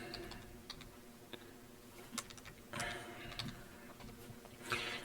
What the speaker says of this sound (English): Just type it right in.